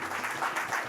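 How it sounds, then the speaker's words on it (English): A short burst of applause, many hands clapping in a dense, even patter that fills the moment. "Can we please give Swamiji a big, big round of applause?"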